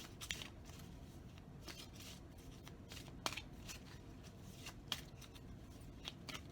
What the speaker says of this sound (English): let me get you the oracle card from the Sacred Vision oracle cards